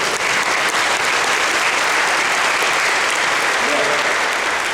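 Loud, dense applause fills the room from a church audience during a Gospel of Mark talk by a priest, sustained and even throughout with faint voices mixed in.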